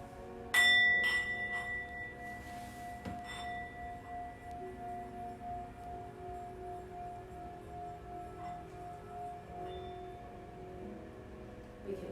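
After a sharp initial strike, a Tibetan singing bowl is rubbed around its rim with a mallet, giving a steady, sustained ringing hum that lingers for many seconds with faint clinks along the way, close and clear, without any talking.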